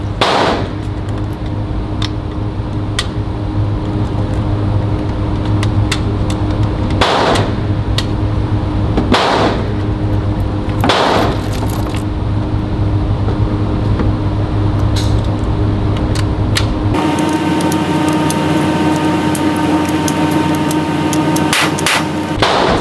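Gunshots at an indoor gun range, several loud sharp reports spaced a few seconds apart over a constant hum of ventilation, with the background tone shifting partway through.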